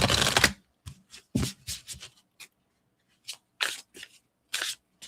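A deck of tarot cards being shuffled in bursts, starting with one loud riffle and then several short, crisp flutters and snaps separated by pauses, close to the microphone and with no one talking.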